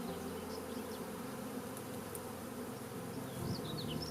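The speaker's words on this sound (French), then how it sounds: "Les abeilles relèvent leur abdomen et en battant des ailes, elles appellent les autres à rejoindre la ruche" Honeybees at a hive fan their wings with raised abdomens, making a steady, dense buzzing drone with a few individual bees whining past nearby, continuous and without talk.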